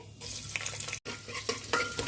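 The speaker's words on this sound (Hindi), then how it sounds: "जीरा भून जाने के बाद इसमें प्याज डाल देंगे।" Onion frying and sizzling in hot mustard oil with cumin in a pressure cooker, a steady crackling hiss with stirring scrapes, no voices.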